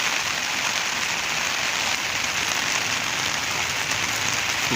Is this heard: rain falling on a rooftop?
yes